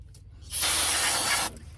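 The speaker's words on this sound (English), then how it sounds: "I'm gonna be using brake cleaner." Brake cleaner sprays onto front brake pad hardware on a 2017 Acura RDX, a loud steady aerosol hiss lasting about a second, close up, with no talking.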